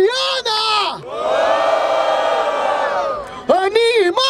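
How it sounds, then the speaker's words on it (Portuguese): Crowd at an outdoor Brazilian rap battle in Barueri erupting into loud cheering, whoops and shouting, framed by a host's amplified shouts into a microphone before and after. "Barulho pro Rafael e pra Diana!"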